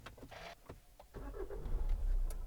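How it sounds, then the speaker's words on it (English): A 2013 Hyundai ix35 with the 1.7 CRDi diesel engine starts up. Brief clicks come first, then the engine cranks and catches into a low, rising rumble, heard close and moderately loud. "the engine will start"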